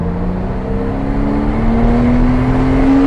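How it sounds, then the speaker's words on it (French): A Porsche Cayman S engine drives a loud, close, steady roar as the car accelerates on a race circuit, with the engine tone climbing smoothly throughout. "Là on débraque et on accélère"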